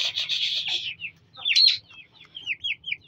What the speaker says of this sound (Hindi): यहाँ पर छोड़ो ये चूजे तंग कर रहे